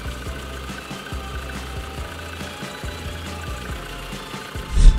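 A car engine running, heard through a homemade listening device pressed against it, giving a low, steady hum with rhythmic knocking pulses and a brief louder scrape near the end, no talk.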